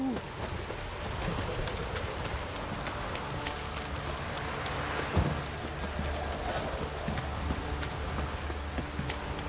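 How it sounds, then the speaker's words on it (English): Steady downpour of rain in the video game The Witcher 3, a continuous wash of falling water with a low rumble beneath and a brief thump partway through, with no speech. "This downpour's a bastard,"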